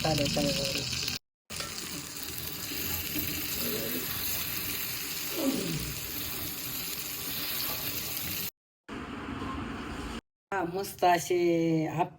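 Batter for thalipeeth frying on an everyday iron tawa, with a steady hissing sizzle that runs for several seconds, broken by brief silent cuts. Someone speaks near the end.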